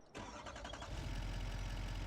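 A truck engine cranks and catches in a farming simulation game, a brief rattling start that settles into a steady, loud low idle with no talk over it.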